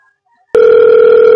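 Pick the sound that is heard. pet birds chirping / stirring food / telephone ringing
telephone ringing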